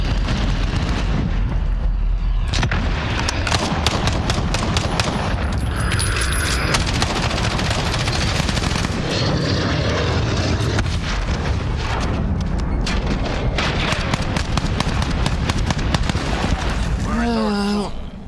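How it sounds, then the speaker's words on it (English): Missile strike explosions in the video game Call of Duty Modern Warfare, hardcore mode: a dense, loud barrage of booms and blasts rolling continuously at close range, with gunfire mixed in. "Allied missile launched."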